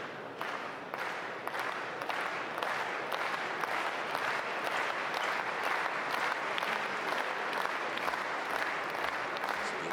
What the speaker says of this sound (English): So the applause from the crowd